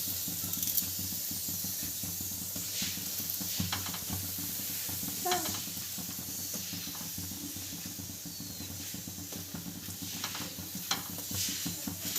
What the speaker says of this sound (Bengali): আমাদের পরোটাগুলো ভাজা হচ্ছে